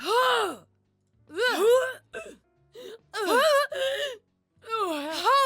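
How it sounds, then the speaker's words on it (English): Strained female gasps and groans in a row for a League of Legends champion's death, each breathy vocal sound separated by short silences, close and clear. "She's like gasping for air."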